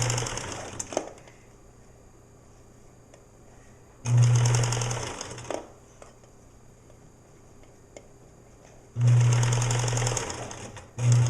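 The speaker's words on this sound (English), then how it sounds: "I slowed down and I'm turning my sewing machine hand wheel" A sewing machine runs in short bursts of rapid stitching, whirring loudly for a second or so each time, with quiet pauses between runs.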